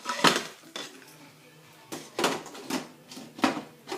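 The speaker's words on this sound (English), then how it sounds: "I'm going to put a lid on it." Metal cookware clatter as a lid goes onto a pot of simmering curry chicken on the stove, several sharp clanks and scrapes in bursts, close and moderately loud, with quiet pauses between.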